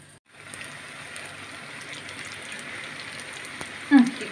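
A soft, steady sizzle of donuts frying in hot oil, crackling continuously at low volume, with a brief clatter near the end.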